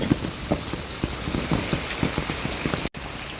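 Steady rain patters on a surface, with scattered louder drips standing out in an uneven rhythm and no voices.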